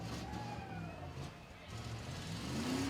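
Autocross race cars and a Ford truck accelerating around a county fairgrounds track in Ohio, a continuous engine drone with shifting pitch heard from a distance amid a crowd.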